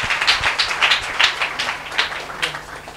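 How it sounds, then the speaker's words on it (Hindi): A prayer meeting congregation claps loudly together, with a dense, steady patter of applause filling the room throughout and no voices above it. "इसलिए आप सब लोग जोर से ताली बजाकर प्रभु यीशु को धन्यवाद दीजिए"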